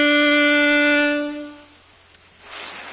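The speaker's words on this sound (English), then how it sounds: "That is B." A single sustained B on saxophone, held steady for about a second and a half and then fading out, played by a beginner-level teacher with nothing else sounding.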